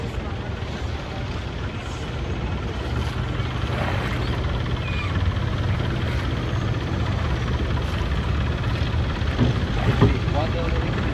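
A long-tail boat engine droning steadily during a ride near Maya Bay, a loud continuous low rumble mixed with wind buffeting the microphone, with faint voices underneath.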